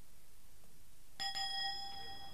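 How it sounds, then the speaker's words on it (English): A bus bell rings out with a single bright, sustained ding that starts suddenly after a quiet pause and keeps ringing to the end, fairly close. "Oh, there's the bus bell."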